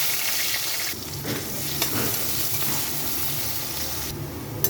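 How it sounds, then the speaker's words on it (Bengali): Onion frying in hot oil in a pan for a spicy Bengali crab curry, an even, close hiss and sizzle that runs throughout, briefly dipping and swelling, with no one talking. "পেঁয়াজটা ভাজা হয়ে গেছে"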